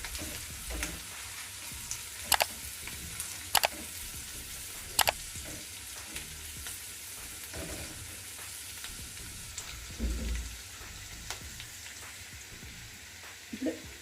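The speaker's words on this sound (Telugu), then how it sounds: "ఇందులో 1 టేబుల్ స్పూన్ వరకు అల్లం వెల్లుల్లి పేస్ట్ వేస్తున్నాను. ఇది కొంచెం వేగాలి." Ginger garlic paste fries in a pan for kadai veg, giving a steady, close sizzle with a few sharp clinks of a spoon against the pan and no talking.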